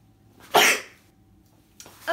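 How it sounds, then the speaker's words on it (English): A single loud, close sneeze bursts out and fades, followed by a short sharp breath or sniff a moment later, with no talking. "I'm gonna sneeze."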